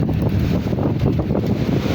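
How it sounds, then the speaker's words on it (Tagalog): Strong wind roars and buffets the microphone continuously, a dense low rumble with gusty surges throughout and no voices. "malakas ang hangin"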